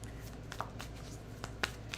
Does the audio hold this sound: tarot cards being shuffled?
yes